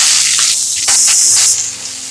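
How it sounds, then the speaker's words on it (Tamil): Sliced big onions and broken dried red chillies hit hot oil for a milagai killi sambar, giving a loud, close sizzle that flares as they drop in and then settles into steady frying. "3 பெரிய வெங்காயம் நறுக்கி வச்சுருக்கேன் போட்டுக்கலாம்."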